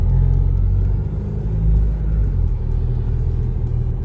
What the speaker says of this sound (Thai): ดีกว่าเราค่อย ๆ แตะคันเร่งลงนะครับ เรากดลงไปเลย แต่ไม่ต้องกดแรงนะ